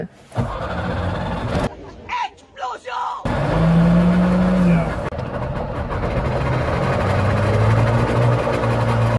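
A Trabant 601S runs while driving, a loud close two-stroke engine drone that drops out briefly then returns steady and rising, with people talking in the cabin over it.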